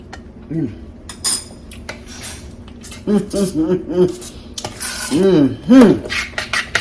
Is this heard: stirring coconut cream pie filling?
yes